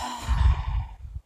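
One long, close exhale during a Pilates stretch, a soft airy breath that swells and then fades out over about a second, with no talking.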